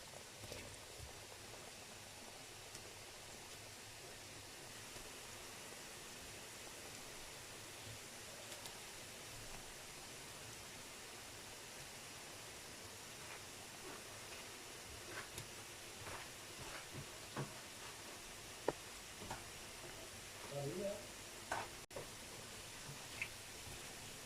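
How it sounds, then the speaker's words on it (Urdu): Shakar paray, sweet dough pieces, frying in hot ghee, giving off a faint, steady sizzling hiss with scattered small pops that grow a little more frequent toward the end. "ان کو اچھی طرح فرائی کر لیتے ہیں گھی کے اندر"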